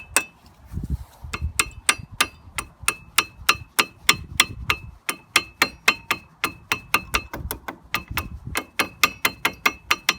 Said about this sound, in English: If it doesn't want to go, tap it with the screwdriver.